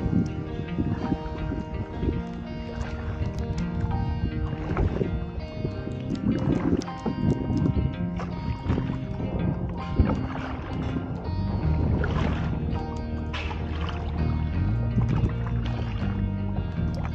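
Kayak paddling on a scenic lake at Kolukkumalai near Munnar, with steady water and boat noise under a continuous layer of music or ambience, paddle strokes not clearly distinct, some wind on the microphone.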